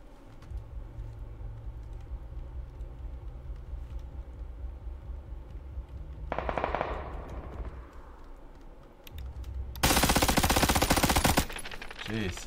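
Automatic weapon fire from the video game PUBG: a short burst partway through, then a loud sustained stream of rapid shots near the end, over low in-game background noise.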